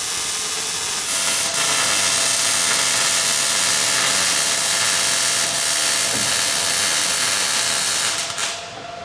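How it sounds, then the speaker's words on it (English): Welding on a trailer produces a loud, steady hiss and crackle that holds constant for several seconds close by, then cuts off at the end. "we're welding her up now"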